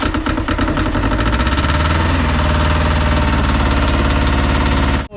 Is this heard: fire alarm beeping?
no